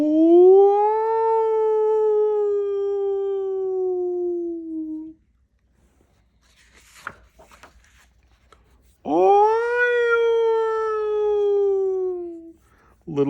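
Two long, drawn-out howling wails from within a tree stump, each several seconds, separated by a quiet pause with faint rustling; a voice seems to imitate the yowl.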